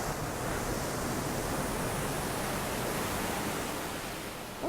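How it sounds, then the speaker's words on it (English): Ocean waves wash steadily below a waterfront patio during a snowstorm warning, a dense, even roar of surf with wind, continuous and fairly loud throughout, with no talking. "I hope you can hear the ocean."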